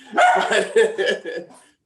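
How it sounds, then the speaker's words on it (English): Several dogs bark at a UPS delivery driver arriving for a pickup, a quick cluster of close, loud barks and yips that tail off after under two seconds. "Sets my dogs off."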